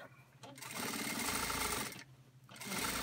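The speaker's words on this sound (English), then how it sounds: "Should be able to do long runs of sewing." A Singer industrial sewing machine stitching fabric in two long, fast runs, a loud steady mechanical whir broken by a short pause between them.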